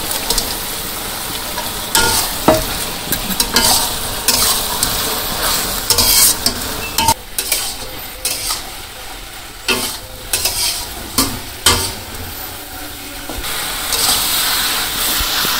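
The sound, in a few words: taro stolons and fried fish being stirred and fried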